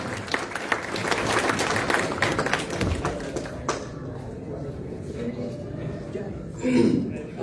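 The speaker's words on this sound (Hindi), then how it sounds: "जरा तालियों की गूंज होनी चाहिए" A crowd claps steadily for several seconds, dense and sustained, with the applause thinning out and a few murmurs and faint voices toward the end.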